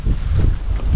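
Strong wind roars and buffets the microphone at a grotto stopover on Mount Parawagan in Montalban, a steady loud rumble with gusts throughout.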